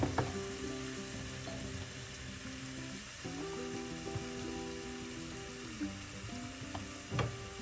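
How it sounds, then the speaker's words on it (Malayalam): Turmeric powder fries in oil over a low flame, a soft, continuous sizzle with a faint steady mechanical hum beneath and a couple of brief louder bubbling bursts. "മഞ്ഞൾപ്പൊടി ആ എണ്ണയിൽ കിടന്ന് മൂക്കട്ട്."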